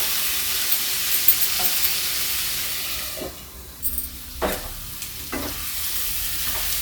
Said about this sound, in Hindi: हम मसाले को आलू के हम 4-5 मिनट और भूनेंगे ढक कर